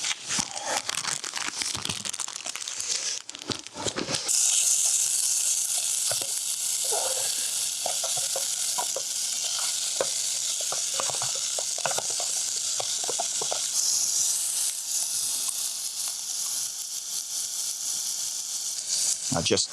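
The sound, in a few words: minced meat sizzling in a pot over a fire in snow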